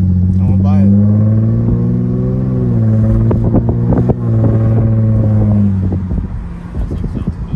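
A Lexus IS250 sedan from the 2005-2013 generation runs close by, its engine holding a steady low drone and rising in a few short revs, with wind buffeting the microphone.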